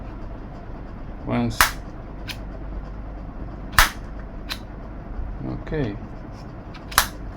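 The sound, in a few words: spring-loaded air brake on Freewing F-16 model actuating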